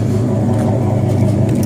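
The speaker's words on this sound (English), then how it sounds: "You got the dual Flowmasters. You can hear them, they sound really nice." A 1985 Chevrolet C10 truck runs through dual Flowmaster exhausts, giving a loud, steady, deep rumble up close with no break.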